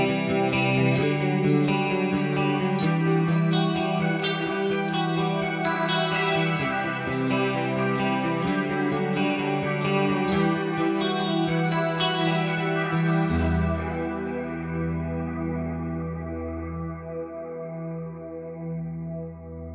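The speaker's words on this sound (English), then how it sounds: "control the levels of the original clean tone and this pitch shifted delay sound with the expression pedal" Clean electric guitar chords blended with a pitch-shifted delay through a CorOS Blend device, sustained and shimmering with echoing repeats, played alone and fading into a long ringing tail.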